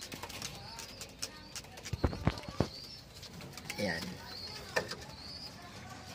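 Pet pigeons coo in soft, repeated throaty calls at home, with sharp flapping and clattering bursts around them and someone speaking briefly nearby.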